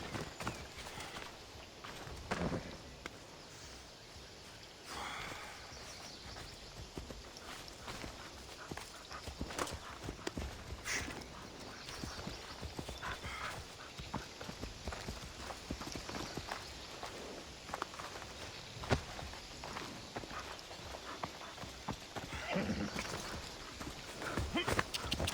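A horse in Assassin's Creed Odyssey trots and gallops with rhythmic hoof clops over game ambience. Faint background sounds run underneath, and the level stays fairly quiet and even.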